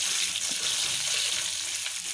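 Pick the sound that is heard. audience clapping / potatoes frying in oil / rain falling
potatoes frying in oil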